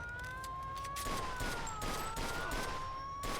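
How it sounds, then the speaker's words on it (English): A police car siren wails with a rising and falling tone in the Mafia video game, steady and moderately loud over a busy, noisy game background. "That's the sound of the police."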